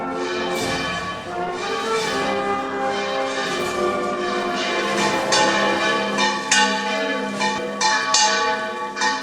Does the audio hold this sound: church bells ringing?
yes